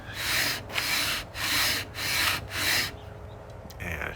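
Hand sanding a guitar neck fretboard with 280 grit sandpaper: five long, close strokes of gritty rasping in a steady back-and-forth rhythm, then a quieter pause and a softer final stroke.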